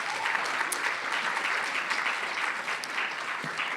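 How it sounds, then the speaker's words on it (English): Applause from the audience at a symposium comes as a continuous, even roar of many hands clapping for about four seconds, with little speech heard beneath it. "So give a round of applause to Tung, Vic, and Jane."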